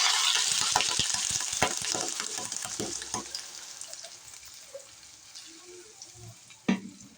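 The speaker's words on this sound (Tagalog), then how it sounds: "Lagyan na po natin ang natira nating Sprite." Fried chicken cooking in a pan with Sprite poured in, a steady sizzle broken by scraping stir clatters that fade toward the end, then a sharp clank near the close.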